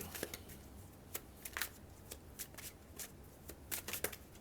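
A deck of tarot cards is shuffled up close, giving soft, quick riffling flutters and taps in irregular bursts over a quiet background.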